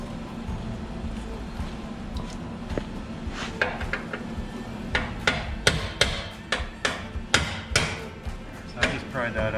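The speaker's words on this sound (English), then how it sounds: "I'm just going to put a chisel in there." A hammer strikes a chisel driven into a utility trailer tongue, the metallic blows starting sparse and then falling into a steady run of sharp knocks, close by with a low background rumble.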